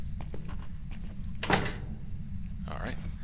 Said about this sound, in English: that was the door